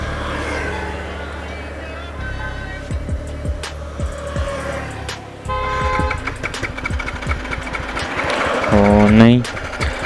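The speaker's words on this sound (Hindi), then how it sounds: "नहीं बाइक स्टार्ट नहीं हो रही है" Yamaha MT15 motorcycle out of petrol failing to start: repeated short cranking bursts and sputters, a brief rising whine near the end, with people talking over it at close range.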